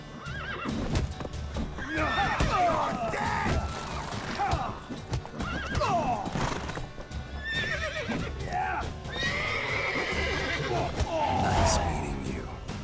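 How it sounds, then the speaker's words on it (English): A horse in a video game neighs and whinnies while its hooves clip-clop steadily, with in-game voices speaking over the animal sounds throughout. "Whoa there, Roach"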